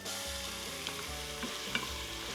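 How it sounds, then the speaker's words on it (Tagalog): Onions, garlic and black beans sauté in oil in an Instant Pot, a steady close sizzle with a few stirring scrapes, no talking. "So we are sauteing all our aromatics"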